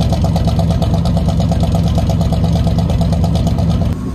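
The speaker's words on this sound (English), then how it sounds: "It idles. Let's go get a proper exhaust clip of this." A Meteor engine, abandoned and left sitting for over 23 years, idles loudly and steadily at close range, its exhaust giving an even, rapid chugging rhythm that drops slightly at the very end.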